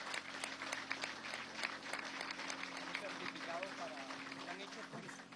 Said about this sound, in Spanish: Un aplauso a los trabajadores de la planta.